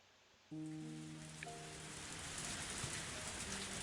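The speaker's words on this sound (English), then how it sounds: "The forecast said there was a chance of rain in the evening, but I did not think it would rain so hard." Heavy rain in the video game Higurashi Matsuribayashi begins abruptly and pours as a dense, steady hiss beneath a sustained musical drone, with no voices.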